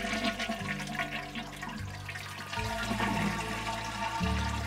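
A toilet flushes as its tank is emptied of water with the supply valve shut off, a loud rushing, gurgling swirl that carries on steadily through the clip and surges near the end, with no talking.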